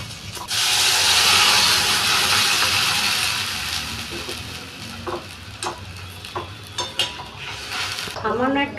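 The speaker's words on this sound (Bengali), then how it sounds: "আমার আলু পেঁয়াজ ভাজা হয়ে গেছে, এবার আমি জল দিয়ে দেবো" Water poured into a pan of fried potatoes and onions bursts into a loud, steady sizzle that slowly fades, followed by a spoon scraping and stirring against the pan in uneven strokes.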